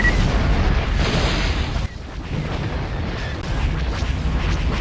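Weapons fire and explosions rumble through a space battle at Geonosis in Star Wars: Empire at War: Forces of Corruption, a loud continuous barrage of booms with a brief dip midway.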